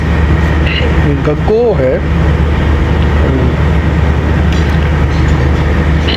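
The 38 DN Baba Fareed Express passenger train rolls into Gaggo railway station, a loud steady rail rumble with a low engine drone and squealing brakes, while someone speaks briefly over it.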